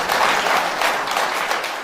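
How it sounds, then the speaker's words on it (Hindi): An audience at a seminar in Madhepura, Bihar claps loudly and steadily, a dense burst of applause lasting the whole moment with no talking. "ताली होना चाहिए।"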